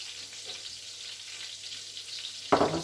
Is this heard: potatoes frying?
yes